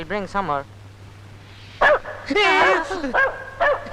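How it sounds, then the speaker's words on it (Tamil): A dog barking in a comedy film scene, with a few sharp yips and whimpers mixed among bursts of excited voices, fairly close and loud. "அதுதான் நாய் குலைக்குது"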